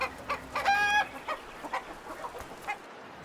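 A chicken clucks as a storybook sound effect, starting with a bright, clear squawking cluck followed by a series of softer, spaced clucks that fade out.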